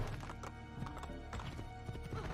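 Rapid clip-clop of horse hooves at a steady trot from the video game Assassin's Creed II, close and fairly loud, with a faint whinny and no voices.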